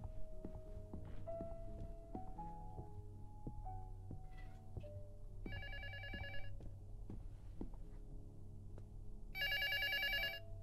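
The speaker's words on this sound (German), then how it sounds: "Telefon." Telephone rings in the horror video game Luto, repeated bright electronic ring bursts over a low droning game soundscape with scattered tonal notes, clear and fairly loud near the end.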